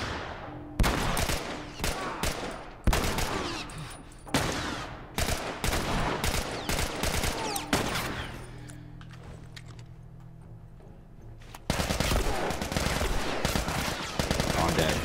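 Assault rifle fire in The Last of Us comes in loud, rapid bursts of shots, close and harsh, with short pauses between volleys and a quieter stretch before heavy firing returns.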